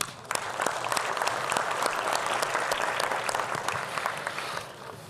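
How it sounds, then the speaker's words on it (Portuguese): Sustained applause from the audience fills a formal Brazilian Senate plenary during a solemn session honoring the Public Defender's Office, a dense, steady clapping that holds for several seconds and then fades at the end. "Uma salva de palmas a vocês e a eles também."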